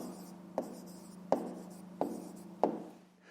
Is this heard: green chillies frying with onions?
no